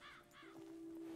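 Crows caw in Red Dead Redemption 2, two harsh calls up close and clear, followed by a steady high drone, with no talking.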